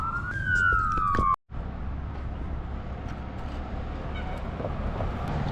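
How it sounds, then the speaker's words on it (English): At a roadside crash scene where ambulances and fire trucks arrive, an emergency siren wails briefly at the start, then cuts off, leaving steady wind and road rumble from a motorcycle ride. "The ambulance came, fire trucks."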